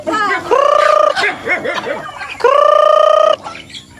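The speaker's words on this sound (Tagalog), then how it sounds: "Grabe, ang daming manok, oh." Loud, close chicken calls from many chickens: two long drawn-out squawks with a burst of choppy clucking between them, plus smaller chatter around.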